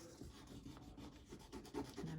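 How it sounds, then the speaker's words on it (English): Paper rubbed by hand to transfer paint onto the other side, a quiet, close, continuous scratchy rubbing lasting about two seconds. "And I'm just going to rub it."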